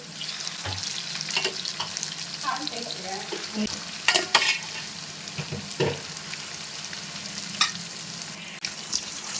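Red chili paste frying and being stirred in a pan, with a steady close sizzle and intermittent scraping clatter from stirring, no voices.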